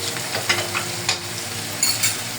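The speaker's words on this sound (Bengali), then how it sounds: "দিয়ে আমরা এই মশলাটা একটু ভালো মতো কষায় নেবো" Garlic and ginger paste masala with whole garam masala sautéing in a pan, a steady broadband sizzle with several sharp stirring scrapes spread through the clip, close and moderately loud.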